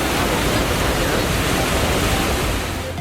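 Horseshoe Falls at Niagara Falls roars in a dense, steady broadband rush of falling water, loud and unbroken throughout, with a slight dip at the very end.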